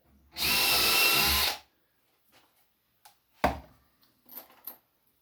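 A power drill starts holes in the wood of a shaving horse: one loud, steady whir lasts about a second, then a few sharp knocks and light handling clatter follow nearby.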